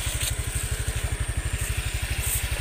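A Honda Vario 125 scooter engine runs with a rough, sputtering beat, steady low pulses thudding about ten times a second, close and fairly loud with no talk.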